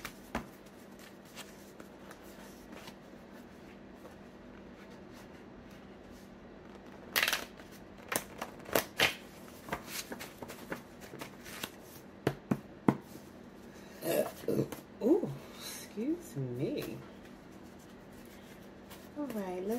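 Oracle cards are shuffled by hand for a reading, soft riffling and tapping in irregular bursts in a quiet indoor room, starting partway through and continuing intermittently, with someone talking at times.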